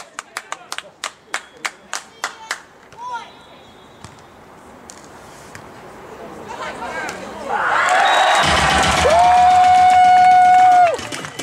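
A beach volleyball crowd at a Moscow Grand Slam match claps in steady rhythmic beats, then breaks into loud sustained cheering and shouting, with a whistle or horn tone near the end and an announcer's voice over the noise.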